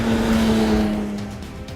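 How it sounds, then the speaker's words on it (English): A Porsche 911 rear-engine sports car accelerates hard on a tight track, a loud, sustained engine drone with a steady harmonic tone that fades slightly as the car pulls away. "bury the throttle on exit and hold on as the rear engine 911 bites down and slingshots into the horizon"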